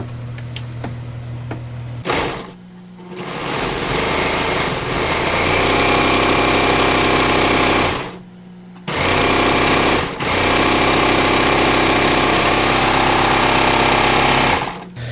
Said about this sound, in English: I'm just going to serge them together here